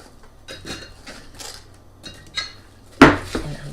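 A utensil clinks and scrapes against a bowl as apple pieces are stirred into melted microwave caramel, with scattered close taps and one sharp, loud knock near the end.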